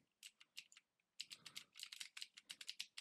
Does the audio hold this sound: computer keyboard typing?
yes